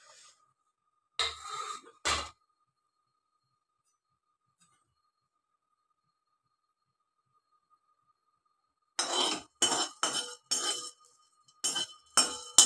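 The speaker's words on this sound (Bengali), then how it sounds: "এগুলো একটু শুকনো খোলায় নেড়ে নেব।" Whole spices stirred in a dry pan for a paneer masala curry, with a few sharp clinking, rattling scrapes early on, a long silence, then a quick cluster of loud clattering stirs near the end.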